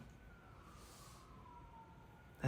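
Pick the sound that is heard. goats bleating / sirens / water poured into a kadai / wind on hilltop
sirens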